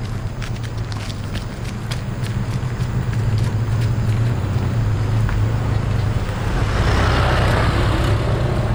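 A motorcycle engine idles and revs steadily with a low rumble, mixed with outdoor noise and a rising hiss toward the end.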